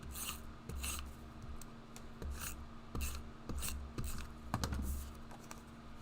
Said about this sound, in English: And I'm just going to cut this down.